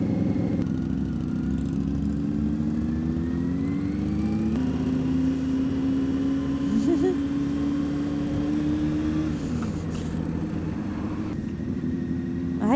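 A motorcycle engine rumbles steadily at low road speed, its drone holding an even pitch and shifting slightly partway through. Wind and road noise sit over it, with no talk.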